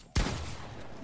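A single sharp gunshot in a Fortnite match cracks loudly near the start and leaves a reverberant tail that fades slowly, with no talking.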